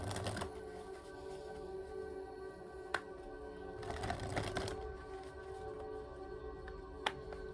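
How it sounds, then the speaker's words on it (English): A tarot card deck is shuffled by hand close up, making papery riffling bursts, soft slides and a few sharp card taps against a quiet background. "I need to give this deck a good shuffle,"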